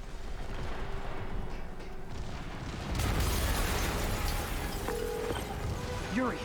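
An explosion in Marvel's Spider-Man Remastered bursts in partway through as a sudden broad roar that lifts above the game's ambient bed and lingers, with voices around it.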